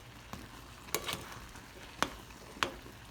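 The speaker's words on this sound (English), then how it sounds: "these berries are coming up to a boil, and they're snapping and popping and busting" Cranberries boiling in a pot give a few sharp, separate pops and bursts at irregular intervals over a faint simmering bed, close by with no talking.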